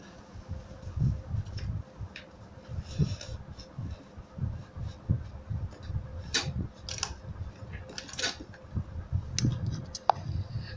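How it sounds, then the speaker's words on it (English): A zipper being sewn onto a handmade leather traveling bag, laid right sides facing over freshly sewn piping; steady close mechanical clicking and soft thumping in an irregular rhythm, with no voices. "so I'm going to sew the zipper on top of it right sides facing each other"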